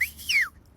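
A single person whistles, a sharp bright note followed by a longer falling slide, close and alone with no talk, then quiet.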